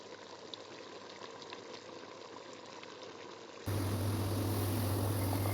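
Mutton paya simmering with water in a lidded pot, a steady soft bubbling hiss that jumps abruptly louder partway through, with a low continuous rumble underneath and no talking.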